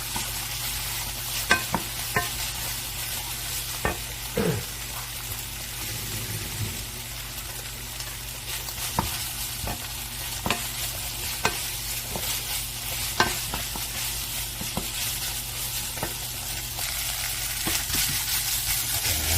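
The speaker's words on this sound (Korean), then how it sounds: "이렇게 준비된 거를 아까 볶던 거에다가 같이 넣고 볶아주시면 됩니다." Spaghetti with pollock roe being stir-fried in a pan, with a steady close sizzle and repeated scraping knocks of a utensil against the pan at an irregular rhythm, and no talking.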